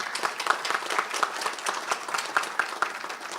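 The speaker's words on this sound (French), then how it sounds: "Permettez-moi, Mesdames et Messieurs, de vous demander de l'applaudir" Applause from delegates at a ministers' council of the Indian Ocean Commission, a lively continuous spatter of many hands with some rhythmic pulsing, moderately loud and without speech.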